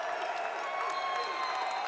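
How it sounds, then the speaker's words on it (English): Lehigh fans cheering and applauding in an arena at the EIWA wrestling championship finals, a steady wash of crowd noise with whistles, heard from a distance. "And the Lehigh fans have something to cheer about here in our last finals bout."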